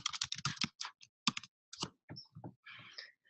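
Quick bursts of typing on a computer keyboard, close and fairly quiet, with clusters of key clicks separated by short pauses.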